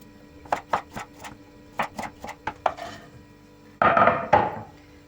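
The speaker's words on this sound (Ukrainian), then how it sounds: "І буду нарізати ось такими дольками." A knife cuts green tomatoes into wedges on a board: a run of about ten crisp, evenly spaced chops close by, followed by a louder, denser clatter near the end.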